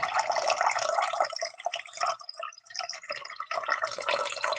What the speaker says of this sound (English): where's that coffee pouring sound? Well, here it is.